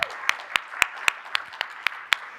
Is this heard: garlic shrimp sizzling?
no